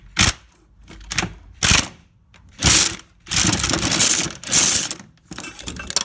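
Ratchet undoing a starter motor bolt on a Ford Focus 1.6 diesel engine: several bursts of close, rapid mechanical clicking separated by short pauses, with a longer run of clicking in the middle.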